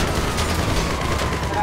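Gunfire in the crime game GTA V: a brief, busy volley of shots rattles under a murmur of voices.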